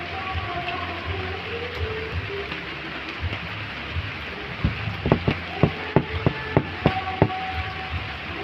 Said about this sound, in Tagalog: Ang ulan na to.